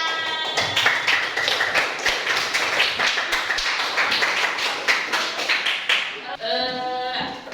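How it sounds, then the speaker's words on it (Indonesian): A group claps steadily for several seconds, a dense patter of many hands up close, ending with a short burst of lively voices. "Tepuk tangan."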